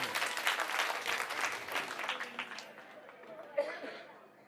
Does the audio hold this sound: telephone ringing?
no